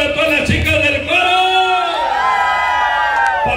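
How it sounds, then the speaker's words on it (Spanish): Women in the audience at a tropical music concert shout and cheer loudly in sustained high-pitched cries, close and continuous, with a voice briefly heard. "que se oiga el grito de todas las chicas del coro"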